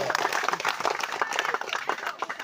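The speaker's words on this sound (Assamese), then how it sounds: "একেলগে জবৰদস্ত হাত চাপৰি" A seminar audience in a village bursts into lively applause, many hands clapping rapidly and loudly together in a dense, continuous patter.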